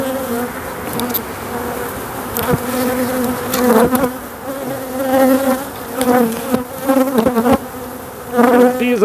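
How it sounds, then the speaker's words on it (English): Honey bees buzz loudly and steadily around a hive frame held in front of the hive, a dense, continuous droning swarm close by with no voices. "Bees on that frame in front of the hive don't seem to like it much."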